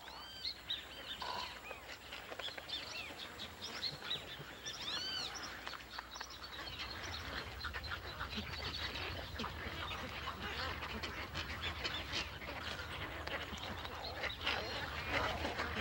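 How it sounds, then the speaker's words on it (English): Wading birds call in the dry season at a shrinking wetland shoreline, a dense continuous chorus of quacking and chirping cries, with many voices overlapping at middle distance throughout. "Wading birds enjoy the annual feast provided by the fisher's misfortune."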